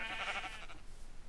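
A sheep bleats in the video game Minecraft, a single short, faint bleat with no talk over it.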